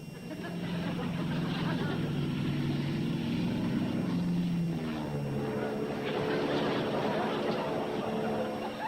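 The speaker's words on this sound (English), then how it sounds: "She's flying the plane crooked." A propeller plane drones overhead, its engine pitch sliding as it passes, with people talking underneath.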